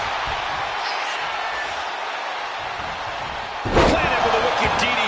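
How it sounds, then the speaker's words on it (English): A wrestler is slammed with a DDT in the WWE 2K26 wrestling video game. Crowd noise and commentary run steadily until a sharp, loud impact thud lands near the end, and the roar rises after it. "Planted with a wicked DDT. Great counter."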